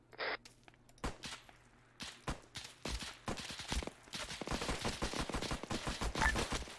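Gunfire in the military shooter game Arma 3 begins as scattered sharp shots, then builds into rapid, dense bursts that crackle on steadily toward the end.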